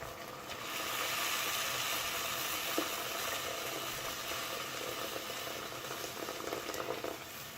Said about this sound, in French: Je vais ajouter l'eau bouillante jusqu'à couvrir les morceaux de viande.